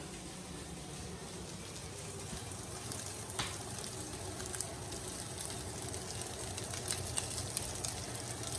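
Shrimp fried rice sizzles steadily in a pan as it is stirred, a continuous close frying hiss with small scraping clicks and no voices.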